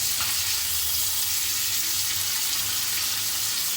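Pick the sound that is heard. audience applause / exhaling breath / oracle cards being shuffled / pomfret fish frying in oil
pomfret fish frying in oil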